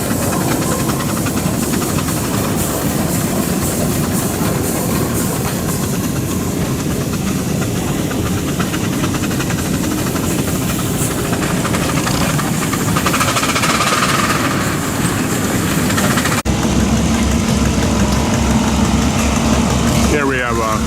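Old tractor engines run at an outdoor tractor show with a continuous loud, hissing, chugging rumble. People talk over the noise throughout.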